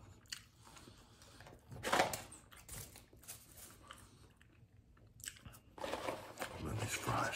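A man eating Wendy's fast food, chewing fries and a spicy chicken bacon cheese sandwich, with close, wet biting and crunching bursts in an uneven rhythm and quiet gaps between mouthfuls.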